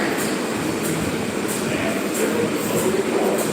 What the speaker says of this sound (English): This is the southbound 7 local train.